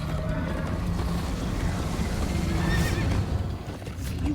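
A horse neighs and whinnies over steady clip-clop hoofbeats and a busy Minecraft: Story Mode soundtrack, with a brighter whinny rising near the middle.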